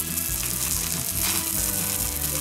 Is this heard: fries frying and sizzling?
yes